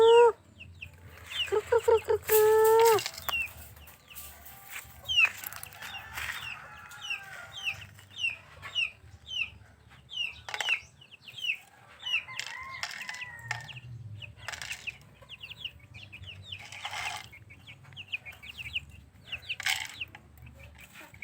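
Chickens cluck and squawk nearby in repeated bursts, with a rooster-like call early on and some wing flapping, scattered over low background rumble.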